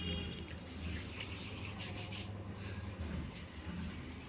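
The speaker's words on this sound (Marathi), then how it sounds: "हे हलवून घ्यायचं आहे आता." Pasta being stirred with pasta sauce and a little ketchup in a pan, giving a steady, close rubbing and scraping sound that runs the whole time with no talking.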